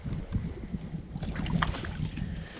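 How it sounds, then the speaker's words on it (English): Gusty wind rushes and buffets outdoors at a reservoir, a steady roaring noise with soft splashing of water beneath. "Oh, it just got windy."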